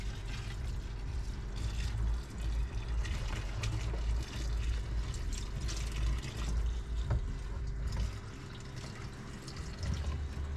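The last two gallons of RO water pour into an Irish red ale brew, a continuous splashing, trickling stream of liquid heard up close for about ten seconds.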